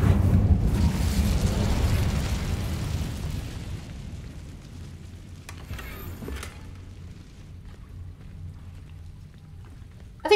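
Incendio fire spell cast in Hogwarts Legacy, a loud roaring whoosh of flame that fills the opening seconds and then thins into a softer crackling hiss, with a brief burst near the end.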